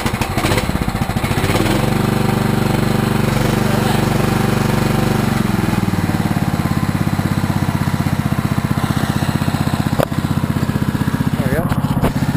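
An old machine's engine runs steadily up close, a loud, even mechanical drone with a rapid chugging beat, and it changes tone slightly partway through.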